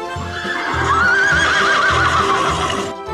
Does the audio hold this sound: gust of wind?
no